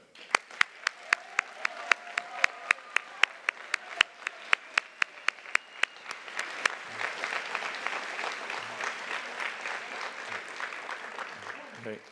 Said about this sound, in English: give a round of applause to the MMA leadership, faculty, and staff for the final time